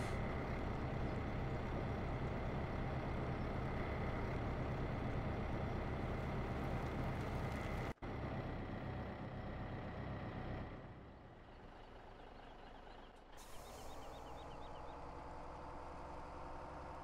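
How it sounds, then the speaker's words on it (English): A truck engine in Farming Simulator 17 drones steadily for several seconds, then cuts off abruptly and restarts with a lower idle and a brief hiss, ending in a smoother running hum. "Need to move our truck out of the way."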